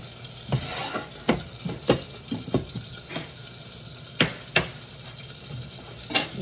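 Dish being stirred and fried in a pan, with a steady sizzle broken by repeated sharp clinks and scrapes of a utensil against the pan; close and moderately loud, no talking.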